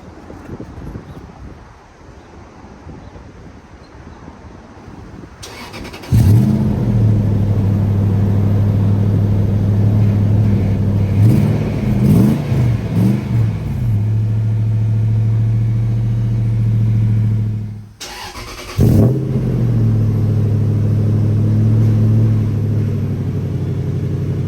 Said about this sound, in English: I'll give you a clip of a cold start, what it sounds like, and you can compare it to the old clip.